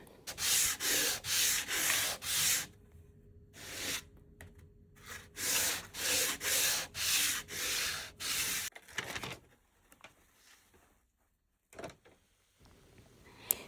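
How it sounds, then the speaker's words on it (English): Repeated back-and-forth sanding strokes on wood, steady rhythmic rasping in bursts, close by, followed by quieter handling noises and pauses. "I'm going to just sand the wood, just a light sanding"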